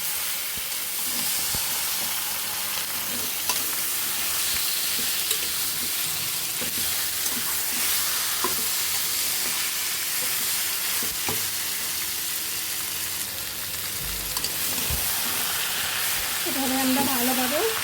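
Continuous sizzle and hiss of mutton frying in a pan with few spices, with frequent stirring scrapes and clatters close by.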